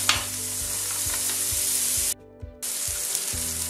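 Onions fry in a pan after meat has been removed for a rabbit dish, a close, bright sizzle with regular low knocks and a brief drop to near silence.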